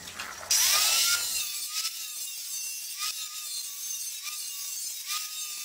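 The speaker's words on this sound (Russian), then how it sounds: "Пилим." A power saw cuts metal parts for a welding jig: a loud bite at the start, then a steady high whine with periodic pulses as the blade runs through the stock, close by and without voices.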